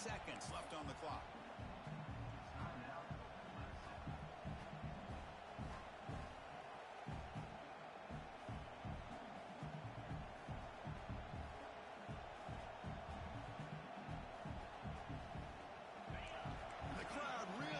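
Loud, steady stadium crowd noise in an American football video game, a dense roar with rhythmic thumping as fans push the defense near the goal line.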